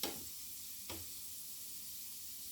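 Alkaline dumplings fry in too much oil in a pan, giving a steady, quiet sizzle with a brief spatter pop about a second in.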